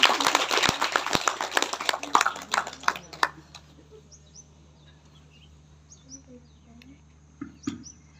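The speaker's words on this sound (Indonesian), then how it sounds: "Kita tepuk tangan lah dulu untuk si Lita nih." Audience clapping at a student question-and-answer session, a burst of many hands for about three seconds that stops abruptly, followed by quiet room tone with faint chirps and small noises.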